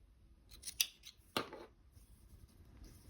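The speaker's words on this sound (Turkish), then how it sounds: "İpimi kestim." Scissors snip through crochet yarn in a quiet room, two crisp close cuts heard alone.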